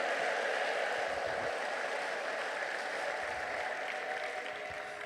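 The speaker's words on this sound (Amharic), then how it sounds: "እባካችሁ ትልቅ እልልታና ጨብጨባ ለጌታ አምጡ።" Church congregation applauding steadily at a fairly even level, broad clapping texture sustained throughout with a faint high ululating tone near the end; no clear talking over it.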